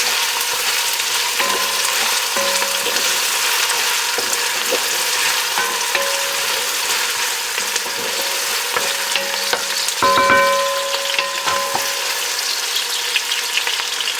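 Garlic and paste frying and being stirred in a pan, a steady close sizzle with occasional scraping and clinks from the utensil against the pan.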